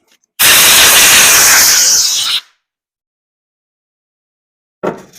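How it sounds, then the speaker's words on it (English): WD-40 sprayed onto disassembled parts of a 42mm Mikuni carburetor, heard as one loud, close aerosol hiss of about two seconds. It cuts off sharply, and after a pause comes a short second burst. "Spray some WD-40 down in there on all your stuff"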